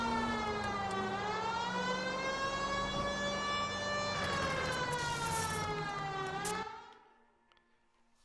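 Police car siren in L.A. Noire, a loud wailing tone rising and falling continuously for about seven seconds before cutting off into near silence.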